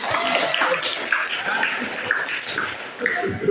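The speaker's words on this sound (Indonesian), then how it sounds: "Tepuk tangan untuk Mahasaraswati dulu." A class of students claps together in a school classroom: a steady, dense patter of hands that fills the short stretch at even strength, with a few tonal squeaks mixed in.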